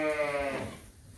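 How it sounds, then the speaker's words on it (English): A chunky ram on a farm in early winter gives a single close, loud bleat with a wavering tone that fades out within about a second, with no voices. "that's a pretty chunky ram"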